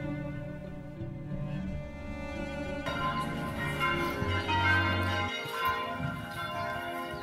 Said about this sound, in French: À l'appel des cloches, qui sonnent pendant 10 minutes, tout le monde se dirige vers l'église.